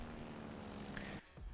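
Propeller planes launched from an aircraft carrier fly in World of Warships Legends, a steady droning engine hum that runs loud and continuous before cutting out briefly near the end.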